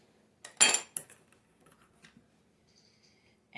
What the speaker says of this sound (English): we're going to mix it till it's nice and smooth